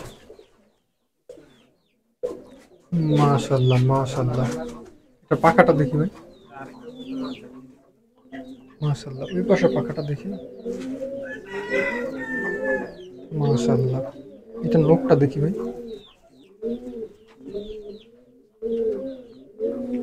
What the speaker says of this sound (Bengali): এটাও M4 জেনারেশনের কবুতর